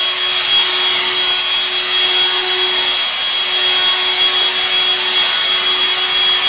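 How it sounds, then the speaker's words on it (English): An Electrolux ErgoRapido 2-in-1 cordless vacuum cleaner runs on deep pile carpet in a child's bedroom, a steady loud motor whir with a fixed hum that stays constant throughout, no voices. "Now it's a deep pile carpet, so it is a little tough, but it's easier than my normal Hoover."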